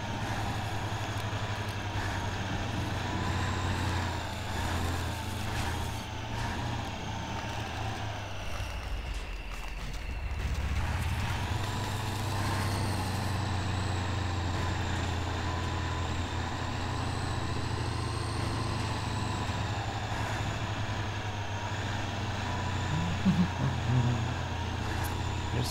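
A heavy turbocharged truck engine in SpinTires drones steadily with a whistling turbo whine above it; the engine dips briefly midway, then climbs back and holds its hum.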